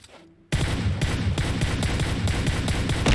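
Rapid PUBG Mobile gunfire bursts in suddenly after a brief quiet lull, a loud, dense stream of repeated shots that keeps going to the end.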